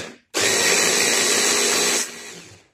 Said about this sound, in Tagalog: Yung gulay, i-blend po natin siya.